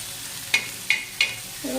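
Chillies and crushed garlic frying in hot oil for a rustic soybean chutney, with three sharp stirring scrapes at steady intervals over a low sizzle, then a brief softer clatter near the end.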